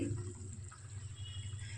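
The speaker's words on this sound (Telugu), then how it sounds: "మనకు ఎంత పులుసు కావాలో అన్ని నీళ్ళు మాత్రమే వేసుకోవాలి" Water poured into a pot of village-style fish curry, a quiet, steady trickle and splash of liquid filling the pan, faint and close, with no talking.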